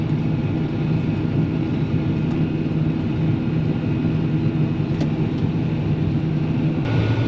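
A tractor hauls an oily, dirty equipment trailer, its engine giving a steady, close, low rumble that holds constant from start to finish.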